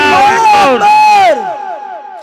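A large religious gathering shouts back a loud, sustained crowd response to the takbir slogan, voices merging into one prolonged chant that fades after about a second and a half.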